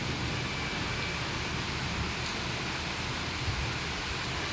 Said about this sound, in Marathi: आणि आता बघा किती पाऊस पडतोय